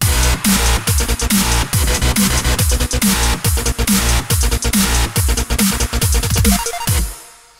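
An unmastered music track plays loud and rhythmic, with steady punchy beats and layered tones before fading out at the end.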